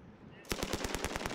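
An M60 machine gun fires during Korean special forces live-fire training, a sudden burst of rapid evenly spaced shots that starts after a short quiet moment, loud and sharp.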